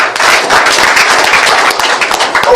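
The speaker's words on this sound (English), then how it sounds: "Another round of applause for him." Dense, loud applause from an audience at a press conference for a speaker, continuous crowded clapping with no gaps, close and filling the room.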